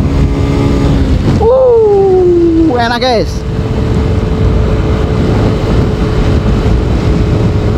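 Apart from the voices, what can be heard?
underbone motorcycle engine roaring while accelerating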